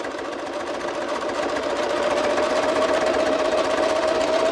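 A sewing machine runs continuously at a fast, even pace, giving a close, steady mechanical whir with a rapid rhythmic buzz and no talking.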